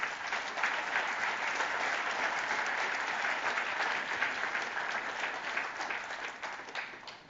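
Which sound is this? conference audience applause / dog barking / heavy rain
conference audience applause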